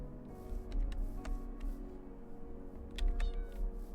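Minecraft cats meowing, several short separate meows popping up over a low hum, fairly close and clear, with no voices.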